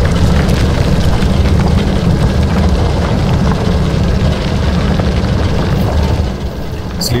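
Deep vein miner machine running in the survival game Icarus, a loud, dense and continuous mechanical roar with a heavy low rumble that stays steady throughout, heard without talk.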